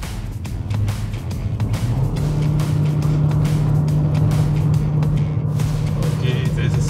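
An Omoda/Jaecoo car accelerating down a long straight test track, its engine drone rising in pitch and holding steady, close and fairly loud, with wind and road noise and occasional voices in the cabin.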